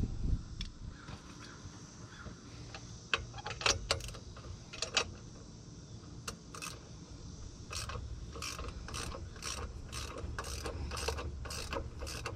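Socket wrench ratchet clicking while loosening a clamp on a 2007 Freightliner truck's side pipe, with quick bursts of pawl clicks and metallic rattles at moderate distance.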